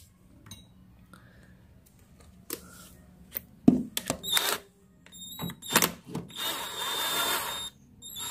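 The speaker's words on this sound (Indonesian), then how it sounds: "Cara gantinya adalah pertama-tama kalian lepas nih baut 10 teman-teman." Loosening a 10 mm bolt on a Honda Revo motorcycle: sparse metallic clicks and clinks of tools, then a burst of ratcheting and whirring close by, ending in a sustained grinding spin.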